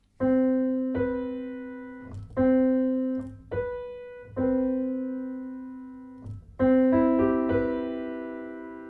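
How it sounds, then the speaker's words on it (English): Single notes ring out one after another, then stack into a sustained major seventh chord, played cleanly and alone. "So starting off with a major seventh chord, here it is."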